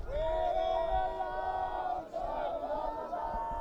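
Spectators at an ultimate frisbee match at a seaside beach tournament let out a sustained, fairly distant crowd cheer and battle cry. It swells for a few seconds and dips briefly before resuming.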